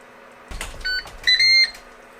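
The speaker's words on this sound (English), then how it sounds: "Ten minutes are up, the unit beeps" Two sets of electronic beeps from a Ninja Foodi Digital Air Fry Oven timer: a short single tone, then a longer sustained beep pattern, fairly close over a low fan hum.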